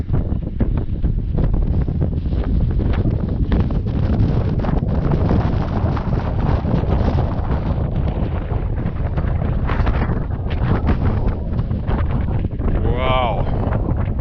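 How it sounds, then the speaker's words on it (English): Strong wind roars steadily across a mountain ridge on the Kouma trail, buffeting the microphone as a constant loud rumble, with a voice talking over it. "It's so windy, I've got to speak loud."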